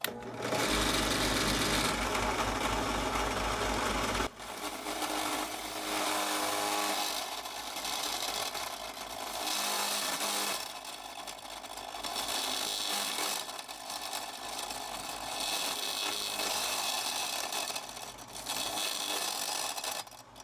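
A steady, loud mechanical whirring from a power drill boring holes in a paint can, running continuously, with a brief pause partway through before it resumes.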